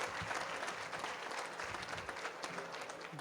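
A dense, steady burst of applause from an audience at an awards dinner, a fairly distant crowd clapping continuously without pause.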